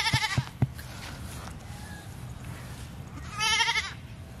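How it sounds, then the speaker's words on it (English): Goats bleat on a farm: several short bleats close together at the start, then a longer, louder wavering bleat near the end, with quieter background in between. "It almost sounded like there was a goat or something down there"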